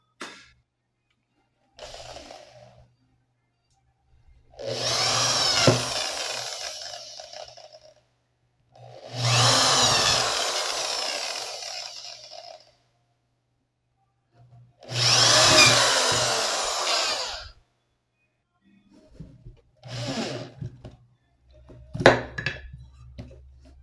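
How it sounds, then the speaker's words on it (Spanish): A power drill or screwdriver drives screws to fix antenna dipoles onto a base, with three long whirring runs and a couple of shorter bursts between quiet gaps, close by. "estos dípolos los vamos a unir por medio de tornillos a esta base"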